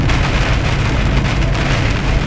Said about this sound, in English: Just saw a wall of rain.